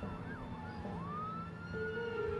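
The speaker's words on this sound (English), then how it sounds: "I heard loud sirens of cop cars following us" Police car sirens wail steadily, their rising and falling tones overlapping above a low road rumble, loud and continuous with no voices.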